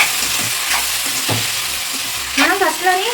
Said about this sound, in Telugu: తర్వాత ఇలా కలిపేస్తుంది.